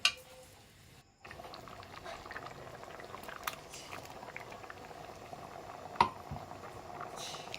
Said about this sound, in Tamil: நம்ம தேங்காய் அரைச்சி வச்சதையும் எடுத்து ஊற்றி நல்லா ஒரு கொதி வந்தவனே